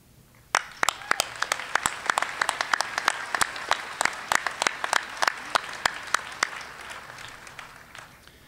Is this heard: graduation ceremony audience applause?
yes